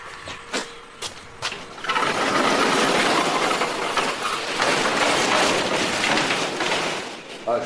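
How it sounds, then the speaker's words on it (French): A motor runs nearby at a house in Vanuatu, a loud, steady mechanical roar that kicks in after a few clicks and knocks and holds continuously, with a voice briefly present. "c'est le moteur qui est là-bas, vous voyez"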